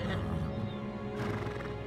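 A horse in Final Fantasy XVI whinnies over a steady backdrop of game music and ambience, a drawn-out neigh heard at moderate volume.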